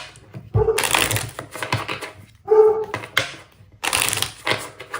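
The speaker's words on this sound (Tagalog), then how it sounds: "Aso ng kapitbahay." A neighbour's dog barks a few times in the distance, with short sharp yelps breaking through a busy background of voices and clatter.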